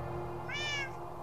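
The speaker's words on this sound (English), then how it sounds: "Shut up, cat." A cat lets out a single short meow, faint and a little distant, over a low steady background hum, with no talking.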